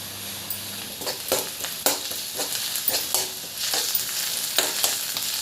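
Sliced onions frying in a pan for a cashew mushroom curry, a loud close sizzle broken by repeated rhythmic scrapes of a spatula stirring, with no talk.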